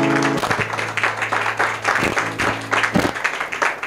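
A church congregation applauds at length, a loud, steady wash of many hands clapping with some rhythmic swells, and a voice with music faintly underneath.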